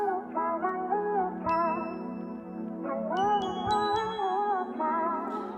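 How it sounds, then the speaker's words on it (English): Layered synthesized bell tones from a factory preset called Zy Bells play a slow melodic phrase, sustained and ringing, with occasional brighter chime accents on top. "I got this bell sound called Zy Bells. It's a factory sound."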